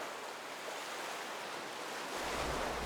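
Wind buffets and water washes steadily around a sailing boat heading north on the River Alde and Ore toward Aldeburgh, a soft continuous rush that grows louder near the end.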